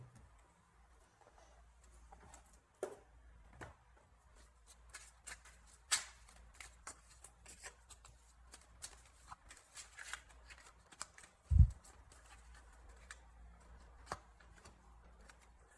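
Oracle cards being shuffled in the hands, a long stretch of soft riffling and patter with scattered sharper taps and one louder knock partway through, quiet and close, no talking.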